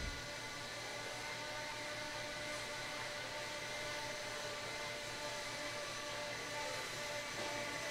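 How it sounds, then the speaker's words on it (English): Marshals' blowers clear dirt off an RC race track, a steady, continuous roar of rushing air with a mechanical hum that holds at an even level throughout. "Marshals, please pick up your blowers. Blow off your areas."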